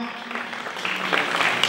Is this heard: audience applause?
yes